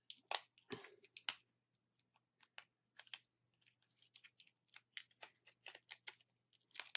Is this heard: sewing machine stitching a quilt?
no